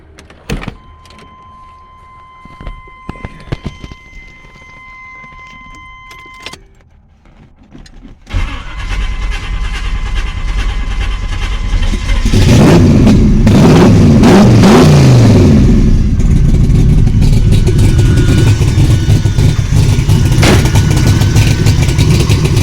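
A life-size Hot Wheels C3 Corvette with a freshly adjusted carburetor accelerator pump cranks with clicks and whirring, catches into a rough idle, then settles into a loud, sustained rumbling rev, close and alone.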